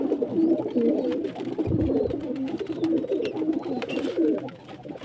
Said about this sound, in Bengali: এখানে একটা পায়রা দেখাচ্ছি